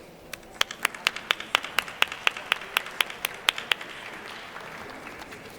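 An audience welcomes speakers to the stage with a run of sharp, evenly spaced claps that ring out clearly over a soft room murmur, then thin out and fade toward the end.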